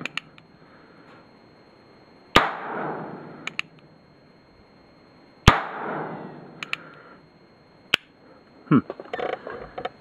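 A NAA mini revolver fires .22 short rounds at a target 15 yards away: three sharp, loud single cracks spaced a few seconds apart, each with a short ring-out, followed by a few smaller knocks.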